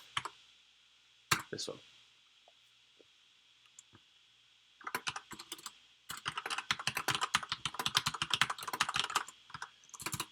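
Rapid typing on a computer keyboard during a coding session, starting with a few scattered clicks and then dense bursts of close keystrokes, with brief speech.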